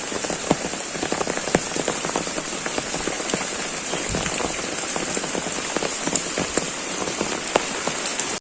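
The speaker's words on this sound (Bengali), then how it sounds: "তো বৃষ্টিটা হালকা কমছে" Rain falls steadily on a hard surface nearby, a dense, even patter of drops with sharper individual splats, continuous and alone.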